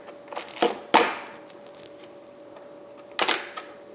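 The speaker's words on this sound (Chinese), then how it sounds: "这边就是快门释放按钮" Shutter release on a Nikon FM2 film camera, a few crisp mechanical clicks heard up close and separated by quiet gaps, with one pair of snaps near the start and another burst toward the end.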